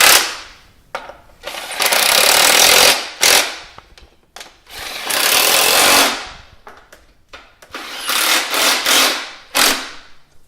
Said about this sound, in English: let's take the socket, get them started. Make sure they're all started properly. Now I'm going to tighten them down.